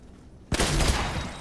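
Video game gunfire erupts after about half a second of near silence, a loud, dense burst of shots that continues steadily to the end.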